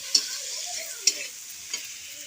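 Onions frying in hot oil with whole garam masala, cumin, dried red chillies and bay leaves, a close steady hiss of sizzling punctuated by three sharp scraping stirs of a spoon in the pan.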